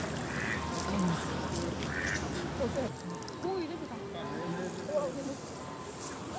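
Wild ducks in an old-town park setting in Europe quack repeatedly at a moderate distance while being fed, with people talking over and between the calls.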